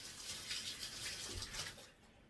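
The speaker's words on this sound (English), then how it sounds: "let me rinse my hand real quick" Tap water splashing over hands being rinsed at a kitchen sink, a soft, fluttering stream for about two seconds before it cuts off.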